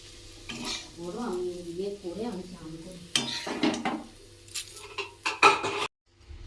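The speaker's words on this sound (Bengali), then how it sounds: "আমি একটু লঙ্কা গুঁড়ো দিয়ে দেবো, ভেজে নেব।" Bitter gourd and potatoes fry in a pan, the sizzle under stirring scrapes and clinks of a utensil against the pan, with a short stretch of talk at the start and a brief silence at the end.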